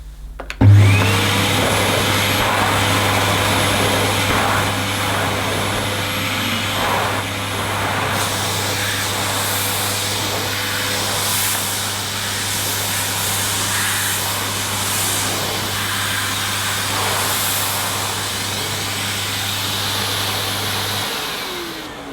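Electrolux Xio compact vacuum cleaner running at full power on pile carpet, a loud steady motor drone held close throughout with a slight shift in tone partway through as the head drags on the pile.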